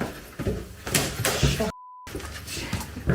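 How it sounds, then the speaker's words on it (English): A kitchen door slams shut with a loud, sharp bang among anxious voices. The sound cuts out briefly with a steady tone, then the people resume talking. "The kitchen door shut."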